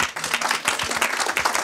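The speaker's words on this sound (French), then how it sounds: "Vous pouvez applaudir." Audience clapping at a Paris NLP meetup talk, a dense, steady round of applause from a seated crowd filling the whole moment.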